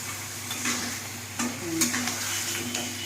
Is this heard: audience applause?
no